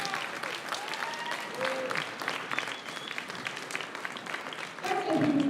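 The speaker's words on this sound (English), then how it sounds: "Let's give one more big round of applause." A crowd applauds at a school awards ceremony, sustained even clapping of many hands with faint voices mixed in, swelling slightly louder at the end.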